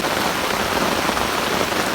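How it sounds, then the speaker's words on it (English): Heavy torrential rain pours down steadily in a dense, even hiss of drops drumming on surfaces, loud and close with no voices. "the rain has slowed down a little. Yes, it's still pouring buckets"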